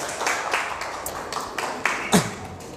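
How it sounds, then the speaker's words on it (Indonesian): A class of students gives a short, light round of clapping during a lesson, irregular claps close by and moderately loud with a sharper clap near the end. "Ya udah, boleh tepuk tangan dulu untuk semuanya."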